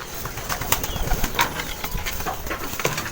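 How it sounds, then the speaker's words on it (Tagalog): Racing pigeons in a loft coo softly while wings flutter and flap in short bursts, close and moderately loud against a busy background of rustling, with no one speaking. "nandito yung mga ibon natin kompleto"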